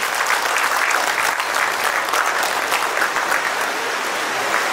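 Sustained applause from a meeting audience at KK Gardens in LB Nagar, welcoming a speaker onto the stage; dense, even clapping fills the whole stretch at steady loudness with no talk over it.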